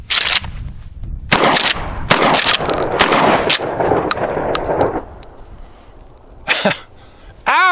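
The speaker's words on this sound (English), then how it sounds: "I'm going to put a target on it, and I'm going to shoot it again" Several loud, sharp blasts and bursts ring out up close from a Mossberg 500 shotgun fired at a target, followed by a quieter stretch and a final short vocal outburst.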